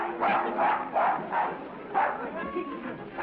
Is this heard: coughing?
no